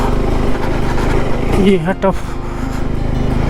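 A motorcycle engine hums steadily as the bike climbs a mountain road in second gear on the Padum to Leh route. Someone speaks briefly over the continuous engine drone.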